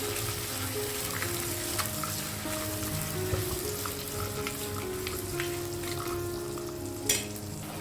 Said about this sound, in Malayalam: തക്കാളി നമുക്കൊന്ന് വാട്ടിയെടുക്കാം